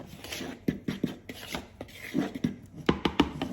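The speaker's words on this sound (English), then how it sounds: "And then I'm going to mix my dry ingredients." Dry pancake ingredients (flour with a dash of salt) being mixed in a bowl, with a run of close, scraping, rasping strokes in an uneven rhythm, moderately loud with no talking.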